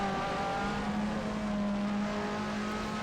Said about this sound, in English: High revs for this car sound decent.